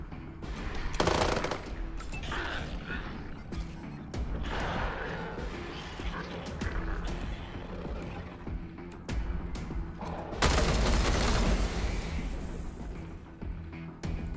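Bursts of automatic gunfire in the post-apocalyptic game Wasteland 3 rattle on and off through a tight firefight, with a louder sustained volley near the end and scattered impacts between.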